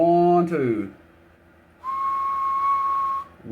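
A person whistles into a microphone for a Texas Star DX400 mobile AM/SSB linear amplifier: a short sliding tone, a pause, then a long steady held note.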